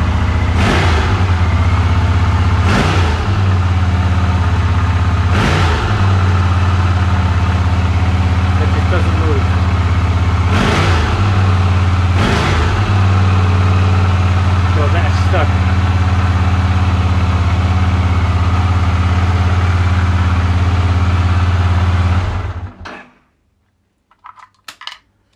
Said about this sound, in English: So the engine is running. Hope you can hear me. It's about 1800 RPMs. I'm going to rev it.